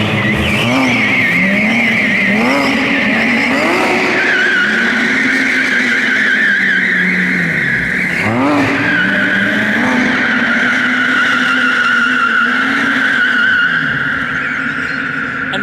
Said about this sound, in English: Pretty standard photo shoot, having 911R doing a donut around you.